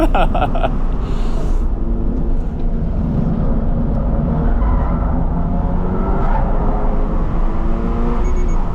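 A Toyota GR86 is pushed hard around a track corner, its engine roaring loudly and continuously up close while the tires squeal through a sideways slide.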